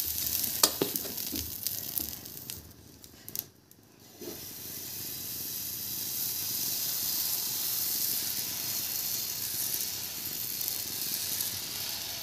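Water splashes onto a hot dosa griddle and bursts into a loud hiss after a few clatters and a brief lull, then settles into a steady, even sizzle of steam that carries on alone.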